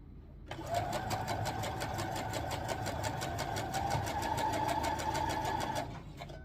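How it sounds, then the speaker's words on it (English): A sewing machine stitches jelly roll quilt strips along a short edge with a quarter-inch seam, a fast steady whir of needle strokes running continuously for several seconds before stopping. "sew these together along this short edge with a 1/4 inch seam allowance"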